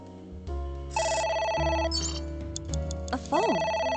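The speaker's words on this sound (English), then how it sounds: "A phone. Should I pick it up?" A telephone ringing in the game AI: Somnium Files, loud electronic ring bursts with a rising chirp, over a low steady game soundtrack, with no one talking.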